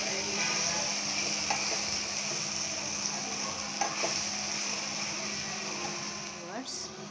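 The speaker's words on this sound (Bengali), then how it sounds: "এখন আমি এটাকে মিক্সড করে নেব এবং চুলার আঁচটা আমি একদম মৃদু তাপে দিয়েছি।" Elephant apple pickle is stirred in a pan over low heat, with a soft steady sizzle and scattered scraping taps from the spoon, faint and close.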